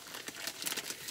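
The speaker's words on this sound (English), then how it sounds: "sorry about all the crinkling, you guys" Plastic wrapping on Easter candy, such as a bag of speckled jelly beans, crinkles in short, close, scratchy bursts that come and go over about a second.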